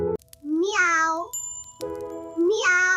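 Two drawn-out, wavering meows from a cartoon kitten, delivered by a childlike voice imitating a cat, close and clear, with a soft chime ringing between them.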